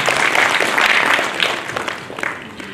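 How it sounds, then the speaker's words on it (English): An audience gives children a round of applause, starting as a full, close burst of clapping that thins out and fades toward the end. "Let us all have a big round of applause for these children"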